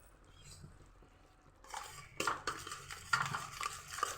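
Garam masala and spices being stirred and sautéed in a pan for bhogichi bhaji, with a quiet start followed by repeated scraping and clinking of a spoon against the pan.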